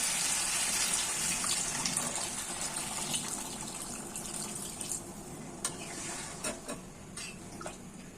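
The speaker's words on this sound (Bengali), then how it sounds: "এখন আমি জল দিয়ে দেবো।" Water poured into a pan of egg curry masala: a steady, fairly loud gushing pour that runs throughout, with a few small splashes and clinks toward the end.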